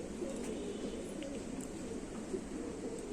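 A pigeon coos softly in a low, steady murmur against a quiet background hum, with a few faint chirps from other birds further off.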